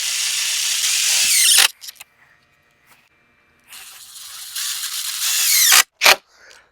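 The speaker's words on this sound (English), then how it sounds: "put a screw right through it to the wood" A screw is driven through a plastic hoop into the wooden frame of a raised-bed cold frame, heard as two loud bursts of power-driver whirring separated by a quiet pause, with brief clicks as the driver stops and restarts.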